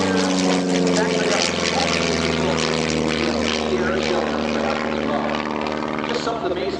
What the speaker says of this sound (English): Next up is our Vans RV4.